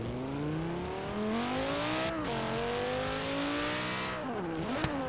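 A Lamborghini engine in a video game revs loudly with rising, wavering pitch and shifting gears, a near, continuous howl with a short dip and surge near the end.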